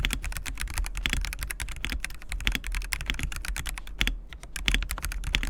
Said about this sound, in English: the keyboard pre-mod sounds pretty damn good.